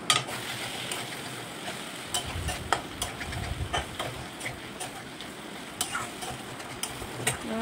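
Fried vegetables with paneer, carrot, beans and potato are stirred into a spiced base in a pan, giving a steady sizzle broken by repeated scraping and clinking strokes of a spoon.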